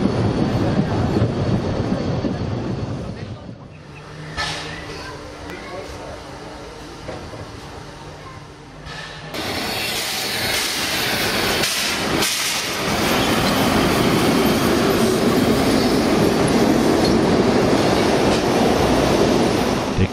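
Narrow-gauge steam locomotive 99 4801 of the Rasender Roland on Rügen rumbles through Binz station, a loud, continuous rolling roar with rail clatter, a brief squeal and shifting intensity as the train passes close by.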